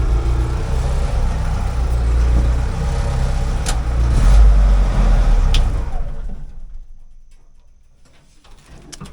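A 1956 Willys CJ5 with a newly installed engine idles a little high, giving a steady, close low rumble that dies away toward the end.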